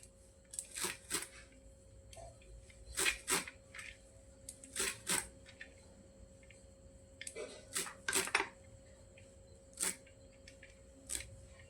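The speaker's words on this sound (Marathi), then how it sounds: "आता याला बारीक बारीक कापून टाकते" Chour bhaji leaves being finely chopped with a knife on a board for a Maharashtrian summer dish, a series of close, sharp clustered cuts in short bursts with pauses between them.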